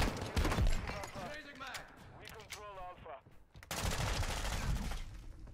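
Shotgun fire in the video game Modern Warfare 2: several loud, sharp blasts in quick bursts with short echoing tails, mixed with game noise and someone talking.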